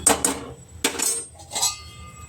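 A metal lid clattering onto a cooking pot while making carrot halwa: a few sharp metallic clinks and scrapes in quick succession, close and fairly loud, with no talking.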